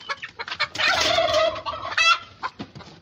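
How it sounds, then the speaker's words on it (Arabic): Turkey hen let out to feed on a hot day, giving close, loud gobbling and clucking calls in several short bursts with brief pauses between, no speech heard. "ديت الفرخه الهندي، خرجتها طبعا تاكل اهي"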